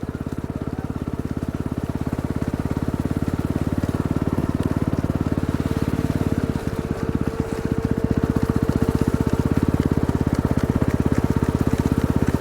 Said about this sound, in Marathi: चला स्पीड घ्या मोटरसायकलीच्या स्पीड